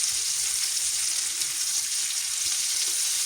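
Steady, dense sizzling of onions frying in a hot pan until golden, a continuous crackling hiss with no talking.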